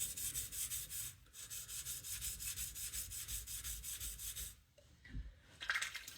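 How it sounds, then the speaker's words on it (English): A belt grinder works a knife bevel during sharpening on coarse stones, giving a steady, fairly quiet abrasive rubbing with rhythmic passes that breaks off briefly near the end. "grinding left side on the belt than on the right side"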